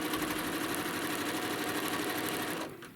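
A sewing machine stitching down a crochet bag panel, running as a fast, steady, close mechanical whir throughout and then stopping abruptly at the end.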